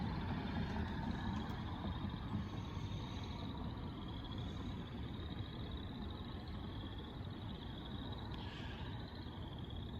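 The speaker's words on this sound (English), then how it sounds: "Well, once the cars pass." Cars pass on a nearby road in a rural outdoor spot with frogs calling, a faint, steady broadband traffic rumble swelling and fading gently, with high chirping calls threaded faintly above it.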